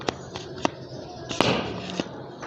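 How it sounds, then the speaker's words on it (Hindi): A dinosaur shooting game toy gun fires several sharp, snappy pops at close range, spaced irregularly, with a louder burst and a brief rattling clatter in the middle of the sequence. "अभी हम टेस्टिंग करने लगे हैं इस गन की, देखते हैं किधर तक जाती है।"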